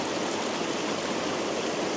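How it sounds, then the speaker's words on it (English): Tasman River flowing out of Tasman Lake in New Zealand's Tasman Valley, a steady broadband rush of running water, close and continuous with no voices. "So this here is actually the Tasman River."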